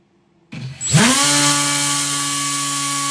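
An RC motor spins a 7-inch, 4-bladed folding propeller, 3D printed, on a thrust test stand: a sudden spin-up whine rises quickly, then settles into a loud, steady high-pitched drone with strong tonal hum.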